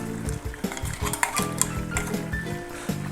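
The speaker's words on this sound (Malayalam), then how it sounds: "എന്നിട്ടത് നന്നായിട്ടൊന്ന് ഇളക്കി കൊടുക്കാം." Prawn curry with ground coconut being stirred in a pot, a spoon scraping and clinking against the metal in a steady rhythm over a soft sizzle, close and fairly loud.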